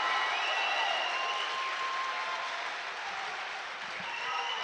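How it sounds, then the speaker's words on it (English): Basketball crowd in a college gym roaring and applauding after a foul on a drive to the basket, a sustained loud wash of cheering and clapping that holds steady throughout. "That's going to bring the crowd to life."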